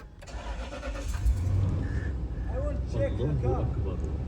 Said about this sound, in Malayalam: വണ്ടി സ്റ്റാർട്ടായിട്ടുണ്ട്.